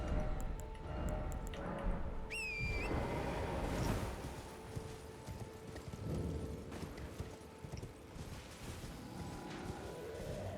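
A horse's hooves clop in a quick, steady rhythm during mounted play in Elden Ring, fairly quiet and close, with a short whistling cue partway through.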